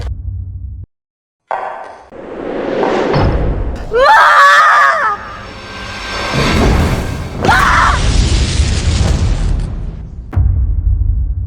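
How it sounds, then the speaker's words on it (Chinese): A household gas cylinder explodes in a dramatic scene, with loud booms, thuds and breaking sounds mixed with screaming, all heavily layered with music and effects. "引起的爆炸不大，这才保住了性命。"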